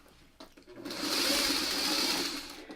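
A sewing machine stitches nested quilt pieces for a spin-pattern block. After a few soft clicks, the motor whirs up into a steady, close, fast stitching hum for about two seconds, then slows and stops.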